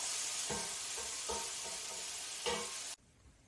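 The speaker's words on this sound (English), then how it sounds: "We'll give that a stir, and then that can cook for another 5 minutes as well." Ackee and saltfish sizzle in a hot pan while a utensil stirs through it, a steady frying hiss broken by a few scraping strokes before it cuts off abruptly near the end.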